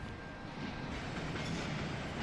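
A very long train rolls steadily past in the Pontiac, Michigan area, a continuous broadband rumble and rail noise with a faint high wheel whine, loud and unbroken throughout with no talk.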